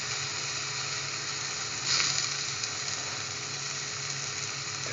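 An egg tortilla wrap frying in a pan gives a steady, even sizzling hiss that holds at one level throughout, close and fairly loud, with no talking.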